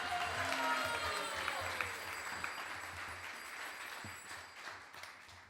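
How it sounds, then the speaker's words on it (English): An audience at a kirtan applauds, the clapping fairly loud at the start and slowly fading, while a voice speaks over it. "Big round of applause for Surya and Bimo."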